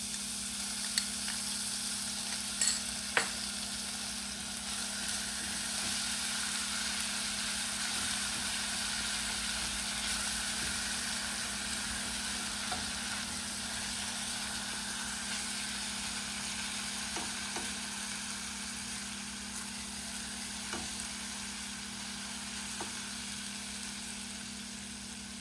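Ginger-chili paste and curry leaves hit hot oil with cumin in a pan while making a corn chevdo snack: a steady, close sizzle runs unbroken for about 25 seconds, with a few faint clicks of stirring and no talk.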